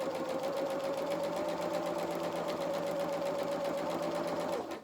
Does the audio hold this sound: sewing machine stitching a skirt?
yes